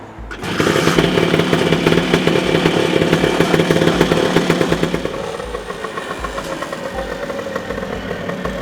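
A Vespa Wideframe scooter engine, freshly tuned, kicks into life and runs steadily, a loud buzzing two-stroke drone that holds near and constant, easing slightly to a lumpier idle toward the end.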